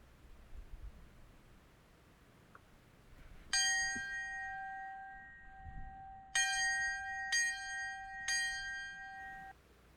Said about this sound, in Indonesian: Di sini ada lonceng juga, bisa dibunyiin